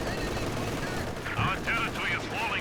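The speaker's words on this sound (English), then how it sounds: "Comes the artillery." Artillery and gunfire in the Company of Heroes 2 World War II strategy game, continuous rumbling battle noise with bursts of shots and whistling shells, as someone speaks over it.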